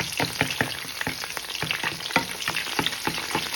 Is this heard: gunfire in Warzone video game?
no